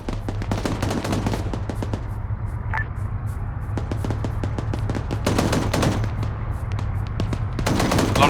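Bursts of machine gun fire ring out repeatedly in a military video game, sharp rapid volleys at moderate distance over a steady engine-like drone, with no talking.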